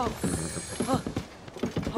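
Giant horse hooves clip-clop in Tears of the Kingdom, a steady run of heavy thudding steps with a faint creak, carried beneath game music and talk.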